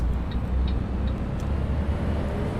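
Tram bus engine in the OMSI 2 bus simulator, a loud, deep, steady drone that holds constant, with faint short ticks and whines above it and no talking.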